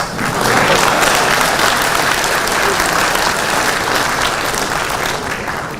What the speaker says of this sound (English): I think we deserve a bigger applause.